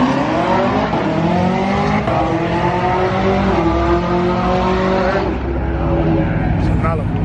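A Chevrolet Malibu drives past on a street, its engine and road noise steady and fairly loud throughout, with people talking over it.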